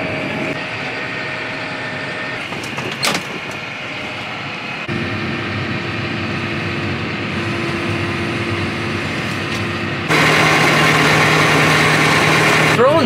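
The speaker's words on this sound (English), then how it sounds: "I bought this new blower and this pusher" Engine of a new snow blower runs at a steady idle, a continuous droning hum that shifts pitch and grows louder near the end, with no talk over it.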